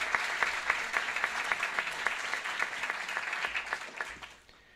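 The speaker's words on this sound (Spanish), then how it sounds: "Un aplauso para ellos." Sustained audience applause at a medical school anniversary ceremony, a dense steady wash of many hands clapping that fades away near the end.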